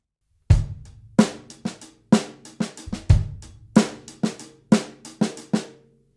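A drum kit plays a syncopated funk break, bass drum on 1 and snare on 2, punchy kick and crisp snare hits in a tight groove, dry and close with no other sounds.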